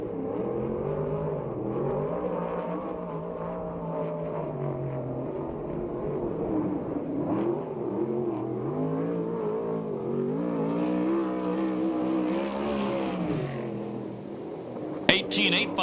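USAC/CRA sprint car circling the dirt track at Perris, California, its engine note rising and falling through the lap at a distance while an announcer talks over it throughout.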